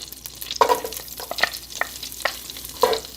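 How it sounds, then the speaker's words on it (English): Minced garlic sizzles in melted butter in a pan over low heat, a soft steady crackle close by with scattered stirring scrapes and small pops, and no voices. "I'm just going to saute my garlic for about a minute"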